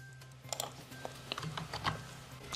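Someone types on a laptop or computer keyboard, producing quiet, irregular key clicks that come in small bursts against a faint background hum.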